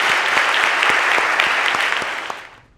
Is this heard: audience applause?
yes